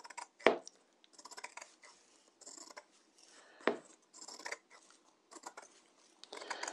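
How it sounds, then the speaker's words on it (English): Pinking shears trim the edge of bias interfacing fabric, giving two sharp, close snips with softer cutting crunches and rustles between them. "So I'm just using the pinking shears to do this."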